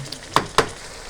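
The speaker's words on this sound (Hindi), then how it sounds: "तो अच्छा सा हम 10 मिनट तक इसको भूनते रहेंगे ताकि इसका घी अलग हो जाए" Creamy chicken handi frying in ghee in a pot: a soft, continuous sizzle broken by two sharp, close clinks of a utensil.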